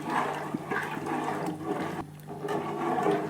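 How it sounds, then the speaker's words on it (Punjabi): Water splashes and gushes into a pot of Punjabi kadhi in a short burst, close and fairly loud, with no talking. "ਸੋ ਆਪਾਂ ਇੰਨਾ ਕੁ ਹੀ ਪਾਣੀ ਪਾਉਣਾ ਹੈ"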